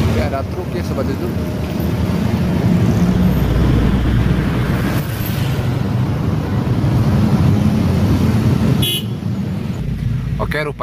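Road traffic on a busy street in Cicurug, with a passing Aqua delivery truck rumbling close by amid steady engine noise and a brief horn toot. Someone talks continuously over the traffic.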